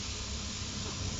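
Onions sweat gently in a pan with a faint, steady, even hiss and no talking.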